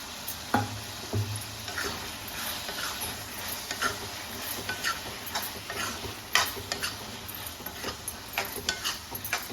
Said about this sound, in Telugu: మగ్గిన తర్వాత మనం ముందుగా కట్ చేసుకొని పెట్టుకున్న వంకాయలను యాడ్ చేసుకొని బాగా కలుపుకోవాలి